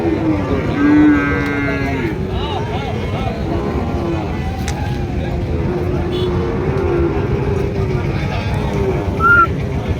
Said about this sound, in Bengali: খুবই সুন্দর একটি গরু